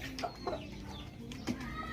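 Pradu chickens, a Thai native breed, cluck nearby in short, scattered bursts over a soft background murmur.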